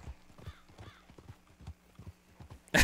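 Horse hooves clip-clop at an easy, steady walking rhythm along a trail in the Red Dead video game, close and clear with no talk, ending in a sudden loud burst.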